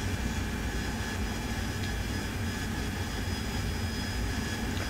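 The AV-8B Harrier's jet engine roars steadily in the DCS World flight simulator, a constant loud whine and rumble with no talk over it.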